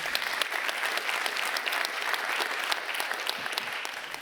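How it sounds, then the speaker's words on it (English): Sustained audience applause fills a policy panel discussion on resisting authoritarian pressure, a dense, steady wash of many hands clapping together throughout, loud and close, with no voices rising above it. "Yeah, that deserves an applause."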